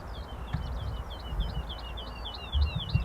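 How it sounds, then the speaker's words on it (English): Birds chirping and singing near an RAF Lakenheath airfield, a rapid run of high, quick tweets repeating steadily over a low rumbling background, moderately close but fairly quiet. "Enjoy the noise of the birds"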